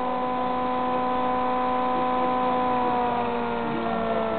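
A shorted generator coil loads the spinning magnet rotor, giving off a steady, loud electrical hum with strong even tones that holds unchanged and continuous, with no voices.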